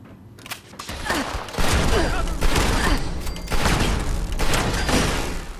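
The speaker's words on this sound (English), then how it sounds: "It's amazing just how powerful the gauss shotgun is." A gauss shotgun fires in Fallout 76: several heavy, booming electric blasts in quick succession, loud and close, with a constant rumbling game-action background between the shots.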